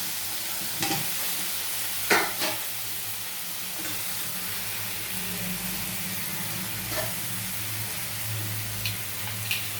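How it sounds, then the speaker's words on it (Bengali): Fried potatoes go into a pan of browned, slow-cooked meat and get stirred, with a steady frying sizzle under scattered scrapes and clacks of a utensil against the pan. "এবার আমি এর মধ্যে আলুগুলো দিয়ে দিচ্ছি, ভেজে রাখা আলুগুলো"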